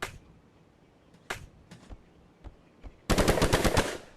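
Guns fire in a VR physics engine video game: scattered single sharp shots spaced across the first three seconds, then a loud rapid burst of automatic fire to the end.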